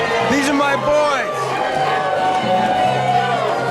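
A capacity wrestling arena crowd on its feet cheering and whooping for the tag team champions, a loud roaring swell beneath an excited commentator speaking over it.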